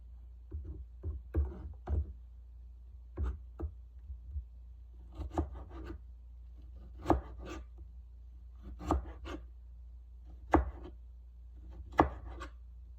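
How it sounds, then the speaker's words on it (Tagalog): A sharp kitchen knife chops small tomatoes on a cutting board in irregular, crisp taps and thuds, close and fairly quiet, with no voices. "Sunod naman natin gayatin kamatis"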